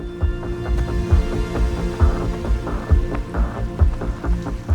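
Steady rain patters down outdoors during a holiday park run, a dense continuous hiss with scattered sharper drops and thumps, fairly close and with no voices.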